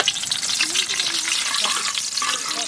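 Bay leaf and dried red chilli sizzle in hot sunflower oil in a wok, giving a bright, steady crackling fry close at hand with no talk over it.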